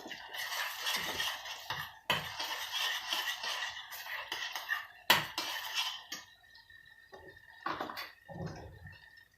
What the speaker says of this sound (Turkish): Sosumu bir taraftan karıştırıyorum. İyice kavuruyorum.